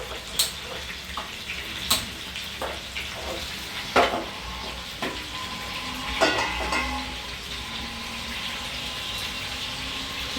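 Chicken sizzling and frying in oil in a pan for butter chicken, a steady crackling hiss with occasional louder pops and clinks of stirring, close and continuous with no talk.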